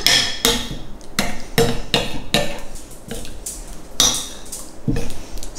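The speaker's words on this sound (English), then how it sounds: "So all stirred in nicely." Metal spoon working through vegan pizza sauce in a pot, producing a run of loud, close clanks and scrapes against the pot at an uneven rhythm of roughly one knock per half second.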